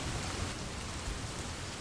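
Steady rain pours as a dense, even hiss throughout, close and fairly loud with no pauses.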